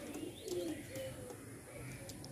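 Pigeons of an old Andhra line cooing softly and close by in a loft, a few low throaty coos over quiet background.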